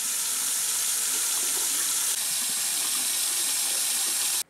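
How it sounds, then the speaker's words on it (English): A tap runs steadily with hot and cold water, a loud, constant splashing hiss that continues unbroken and cuts off abruptly at the very end. "like hot and cold running water"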